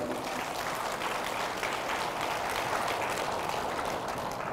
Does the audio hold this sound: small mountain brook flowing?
no